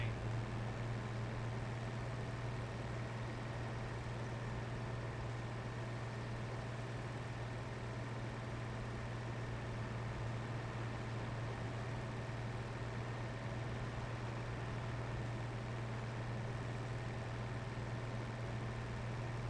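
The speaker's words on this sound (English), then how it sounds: "It does not like trying to drive this big old tractor down these narrow roads" Steady low drone of a big tractor engine cruising along a road in the Farming Simulator 25 video game, unchanging and moderately quiet throughout, with no talking.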